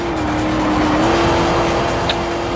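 Race car in Forza Motorsport 4 during a multiplayer single-lap race against computer AI, engine holding a loud sustained high-pitched drone with tire noise throughout, no voices.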